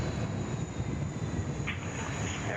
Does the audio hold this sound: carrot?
no